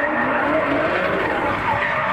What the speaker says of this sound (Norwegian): It is incredible BMW M3 running against Martin Halsten.